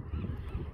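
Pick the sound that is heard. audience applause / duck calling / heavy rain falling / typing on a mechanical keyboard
duck calling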